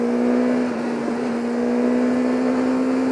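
A BMW S1000R inline-four motorcycle engine holds around 7000 rpm on a highway, a steady continuous exhaust drone with a sustained pitch, loud and close, with no speech.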